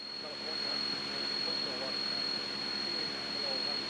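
A light airplane engine drones steadily in flight, a constant close cabin hum with a thin high whine above it, while a voice talks over it.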